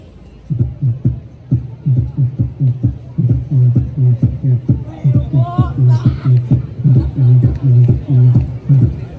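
A voice beatboxes a muffled, thumping club beat with a steady bass pulse and rhythmic clicks, imitating music heard from outside a London nightclub through walls.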